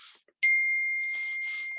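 A single clear phone notification chime rings out at a crafting table while a card is being glued, then sustains and slowly fades, with soft rustling before and after.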